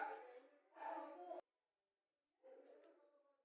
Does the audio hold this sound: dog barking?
yes